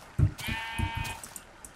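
A Minecraft sheep bleats in a wavering, nasal cry over a series of soft thumping hits, with a few faint game clicks trailing off afterward.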